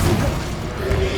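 An Incendio fire spell is cast in Hogwarts Legacy, a loud low whooshing boom with a thudding burst at the start, followed by a sustained flaring hum.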